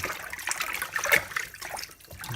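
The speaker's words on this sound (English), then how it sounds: "run the water out and put more water in" Tap water running into a container while salad leaves from an allotment harvest are washed: soft, uneven trickling and splashing with small bright drips, fairly quiet and alone.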